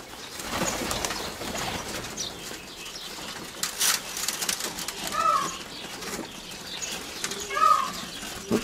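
Decorative pigeons in a Donbas loft coo softly while wings flap in bursts, with rustling movement and a couple of clear coos rising near the end.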